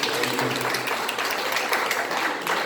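Dense, steady applause from an audience honouring a teacher from Cruz Elementary School, a continuous wash of many hands clapping at fairly close range that fills the whole stretch without a break.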